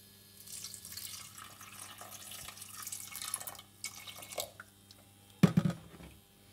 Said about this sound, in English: Turning the heat on, I am adding some water.